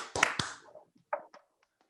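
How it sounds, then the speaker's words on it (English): A single person gives two quick, sharp hand claps close by, loud and evenly spaced, followed by a few fainter scattered taps as the sound dies away. "Give you a big 2 claps from Stats versus Facts."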